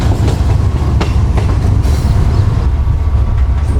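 The Pak Business Express rolls along the tracks with a loud, dense low rumble and wheel clatter, heard up close from aboard without any voices.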